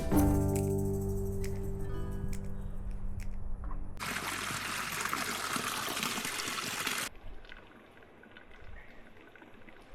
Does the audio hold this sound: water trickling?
yes